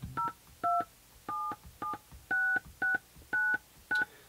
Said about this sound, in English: So if I was to dial a number here.